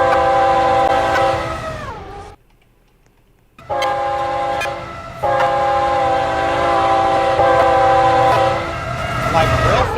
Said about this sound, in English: So let the train horn honk